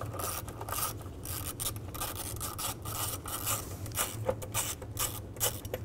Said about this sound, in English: Loosen up this bolt.